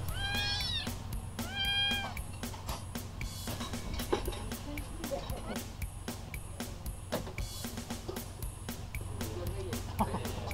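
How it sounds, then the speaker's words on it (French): Several meows from feral cats roaming a resort hotel in Samana, Dominican Republic, come in short bursts early on over a steady outdoor hum and faint background chatter. "Il y a des chats un peu partout."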